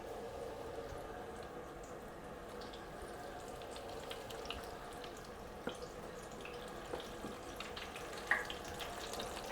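Coated chicken pieces fry in hot oil in a basket, giving a steady, faint sizzling hiss with occasional small pops and crackles.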